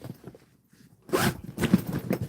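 A double zipper on a Craftsman tool bag is drawn in a few quick rasping pulls, close and fairly loud, with a brief pause between strokes.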